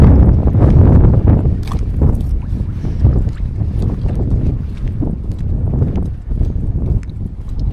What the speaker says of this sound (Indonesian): Anginnya agak mulai gede ini ya